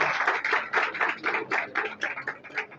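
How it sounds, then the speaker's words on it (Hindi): Audience of homeopathic doctors clapping at a convention at KMC Hospital, Karachi: steady, fairly even rhythmic hand claps filling the room for a few seconds, moderately loud with no voices over them. "तो आप लोग अपने लिए भी तालियां बजाइए"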